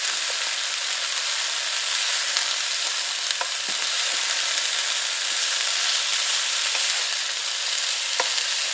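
Purple and green tricolor coleslaw cabbage sizzles steadily in a hot pan while being stirred, with an even frying hiss throughout and a few faint scraping clicks.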